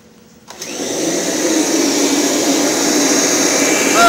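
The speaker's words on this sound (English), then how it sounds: "Now when you use these Kirby carpet shampooer systems, the machine needs to be in neutral." A Kirby G6 vacuum with its carpet shampooer system, set in neutral, switches on after a brief quiet and spins up into a loud, steady whining roar close by.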